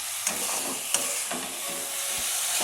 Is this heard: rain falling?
no